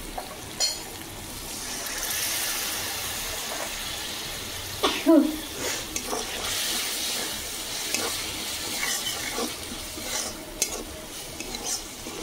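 Sour yogurt goes into a frying spice masala for an egg curry, bringing a soft hiss and sizzle with wet spoon scraping, a few louder clanks and sloshes partway through.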